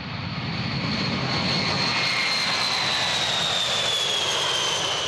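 A Boeing B-52 bomber's jet engines roar steadily at an air show, loud and continuous with a whining high tone that slowly drops in pitch as the aircraft passes.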